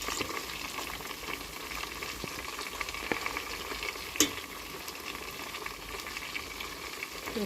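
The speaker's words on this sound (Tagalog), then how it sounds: "Prito natin yung harina" Steady crackling sizzle of flour batter for fried chicken frying in hot oil, with small pops throughout and no voices.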